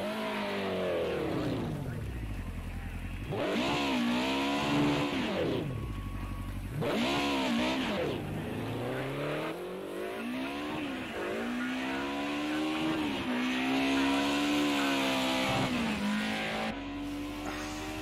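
Racing cars in a video game roar through repeated rising and falling engine revs and passes, loud and close throughout, with brief gaps between bursts.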